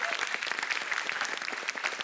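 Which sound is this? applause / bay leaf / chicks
applause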